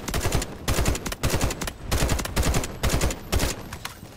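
Automatic gunfire from a hard-recoiling gun in the video game Delta Force, rattling out in several short bursts with brief gaps between them, loud and close, with no talking.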